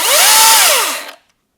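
A battery-powered Milwaukee Hatchet pruning saw runs at full speed, a loud close whine that rises and falls in pitch for about a second before cutting off abruptly.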